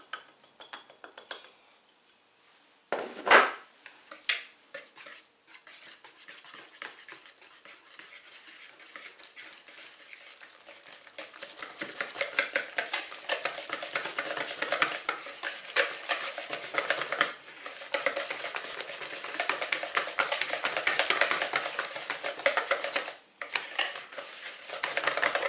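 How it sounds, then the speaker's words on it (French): A spoon or whisk stirs cake batter with flour for a courgette and cheese cake, working out the lumps. A few clinks come first, then a long stretch of steady, wet, rhythmic scraping and slapping against the bowl. "On mélange bien pour plus qu'il y ait de grumeaux, que la pâte soit bien lisse."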